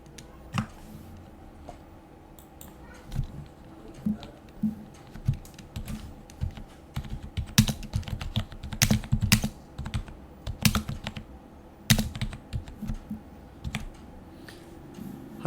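Text is typed on a computer keyboard into a Microsoft Word document, close and clear, with irregular clusters of crisp key presses and louder spacebar thumps that grow busier midway, with no talking.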